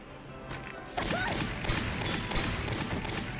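Gunfire in the Valkyria Chronicles war video game: after a quieter stretch, a burst of loud, overlapping shots and thuds starts at about the one-second mark and keeps going as a dense, continuous barrage.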